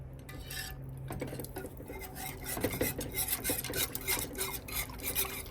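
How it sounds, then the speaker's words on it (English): A whisk scrapes and clatters briskly against a bowl, breaking up a rice flour mixture for custard, close and continuous rattling with no talking. "Always take like a whisk and then try to break the flour before we add the sugar."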